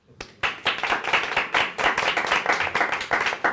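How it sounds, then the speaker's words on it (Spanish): A small group claps in a brisk, steady burst of applause at the sign-off of a Spanish-language show, with close, dense hand claps sustained for several seconds and no talking. "Un aplauso a los señores televidentes."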